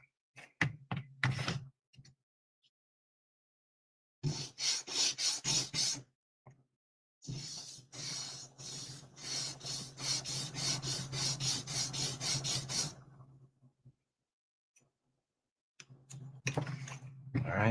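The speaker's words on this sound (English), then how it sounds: "Fret leveling beam." Rasping strokes of a fret leveling beam sanding a tiny diorama part of the Enterprise, with a few short bursts, then a long steady run of rapid back-and-forth scrubbing, close and fairly loud.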